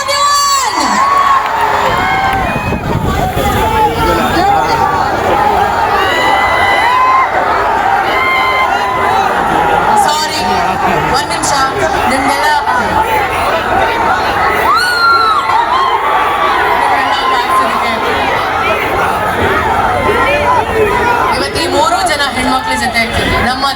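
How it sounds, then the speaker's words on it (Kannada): A large, packed crowd at a shopping mall opening in Davangere for an actress's appearance roars with continuous loud cheering, shouting and excited children's voices, with an announcer talking over the din. "ಮತ್ತೊಮ್ಮೆ ಜೋರಾದ ಚಪ್ಪಾಳೆ"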